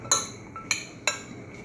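Spoon clinks against a pot or bowl while black beans and corn are mixed together for vegetarian stuffed peppers, with three quick, bright taps spaced apart over quiet room noise.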